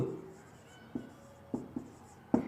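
Chalk or marker writing on a classroom board, a few separate soft taps and short strokes, close and quiet, with no talk.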